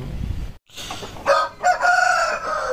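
A white silkie chicken clucks and squawks up close in a few quick, uneven bursts, with some rustling between calls.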